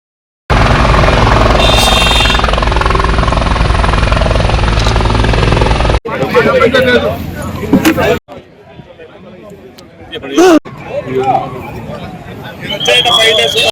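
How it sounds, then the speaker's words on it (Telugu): A helicopter departing with a chief minister for Bengaluru airport produces a loud, steady rotor and engine roar for several seconds, then cuts to crowd chatter and people talking nearby. "హెలికాప్టర్ ద్వారా బెంగళూరు విమానాశ్రయానికి బయలుదేరిన సీఎం చంద్రబాబు"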